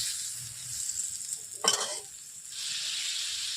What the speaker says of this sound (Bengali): জল দিয়ে খুন্তি দিয়ে এইভাবে মশলাগুলোকে ভালোভাবে নেড়ে করে নিচ্ছি